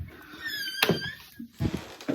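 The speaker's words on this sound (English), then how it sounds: "Here's the kitchen door." A kitchen door swings open or shut: a creaky, whining squeal from the hinge followed by a couple of dull thunks as it settles, close by and brief.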